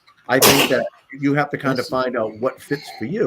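A single loud, sharp sneeze bursts out during a quiet conversation in a veterans' podcast, followed right away by someone speaking in a calm, measured voice.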